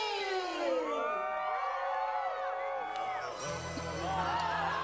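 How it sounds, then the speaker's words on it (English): An audience at a Disney's Hollywood Studios stage show lets out a long, drawn-out groan, many voices sliding downward together for several seconds before settling into a lower crowd murmur. "the groans from the crowd in the back"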